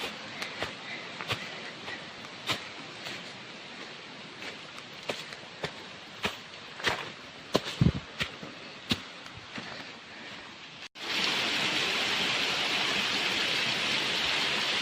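Tundolawe waterfall, the second cascade, with a steady broadband rush of falling water, near and loud, broken by sharp irregular taps and thuds before the roar swells abruptly louder toward the end.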